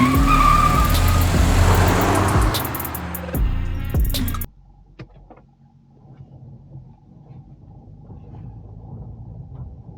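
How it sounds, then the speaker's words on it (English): A 2022 Audi RS3 with its five-cylinder engine roars loudly and close while driving for about four seconds, then drops suddenly to a faint low hum with a few soft knocks. "I will let my brain be cleansed by the sound of 401 half Lamborghini screams."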